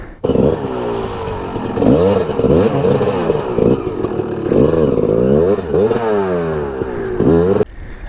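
A 2021 Kawasaki KX450X dirt bike works up rutted, torn-up single-track trail, its engine rising and falling in repeated close revving bursts with clatter between, cutting off near the end.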